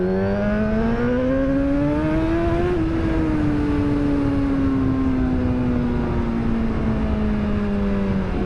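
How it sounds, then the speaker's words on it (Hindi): A Suzuki GSX-R1000R motorcycle engine while riding, loud and close, its pitch rising steadily as it revs, then easing down in a long falling drone over wind noise. "ये वाली जो मॉडल है जिक्सर का, ये मैं पहली बार चला रहा हूँ लाइफ में"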